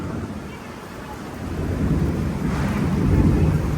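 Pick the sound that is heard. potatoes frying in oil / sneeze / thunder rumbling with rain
thunder rumbling with rain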